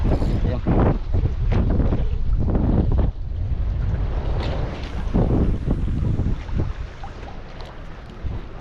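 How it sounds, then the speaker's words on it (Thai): Strong wind gusts batter the microphone on a fishing pier at Hat Won beach, a loud roaring buffet with repeated surges and thumps throughout, with a brief voice partly buried under it. "ลมแรง"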